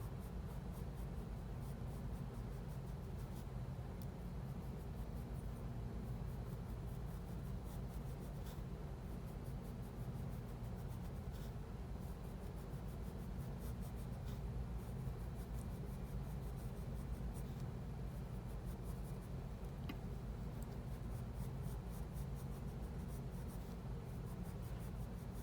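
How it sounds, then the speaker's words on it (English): A soft 7B pencil scratches continuous lines onto paper while drawing a garlic bulb, a close, steady, quiet scraping texture with no pauses. "using a 7B is nice, because what you're really doing is putting the final kind of lines on this drawing of a garlic"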